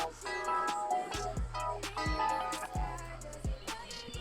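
Hip-hop beat run through a low pass plus phaser preset, with deep booming bass hits and a muffled, swirling melody, a few percussive hits, and the beat filling the whole passage.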